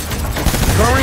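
Gunfire in the video game Death Stranding, a dense burst of rapid shots lasting about a second, loud and close, with a voice talking over it.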